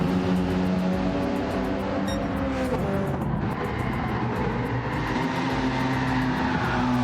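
Group B race cars, including a Ford Focus, roar through a race in Gran Turismo 7, with several engines droning and shifting together, loud and continuous, with tire noise as cars slide sideways.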